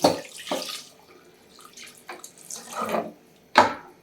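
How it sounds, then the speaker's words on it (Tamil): Water splashes and pours in short bursts into a cooking pot of gravy, with brief pauses and a sharp final splash, close by. "தண்ணி ஊற்றுவோம் தேவையான அளவு."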